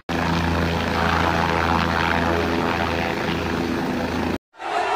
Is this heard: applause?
no